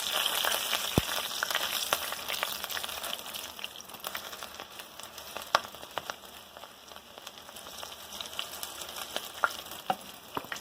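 Breaded mushroom cakes sizzle steadily in a frying pan, a continuous crackling hiss with occasional sharper pops and spatters, close and unbroken throughout.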